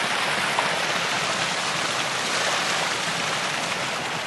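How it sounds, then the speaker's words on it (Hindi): Waterfalls and streams on a mountain trek to Harihar Fort rush in a steady, dense roar of flowing water, continuous and close, with no voices. "पहली बार झरनों के बीच से वॉक का मज़ा ले रहा हूँ"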